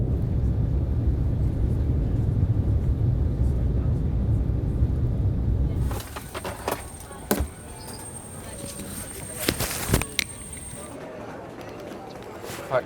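Steady low cabin roar aboard a British Airways airliner bound for London City, loud and continuous for about six seconds, then dropping to a quieter hum broken by scattered clicks and bumps.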